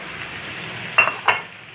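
Cooked mutton on a hot tawa sizzles steadily as finely chopped ginger goes in, with two sharp bursts of frying and scraping stirs over a constant close hiss, no voices heard.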